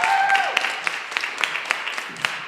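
A small school audience gives scattered applause for a teacher, a few hands clapping unevenly at moderate volume, with a brief voice at the start.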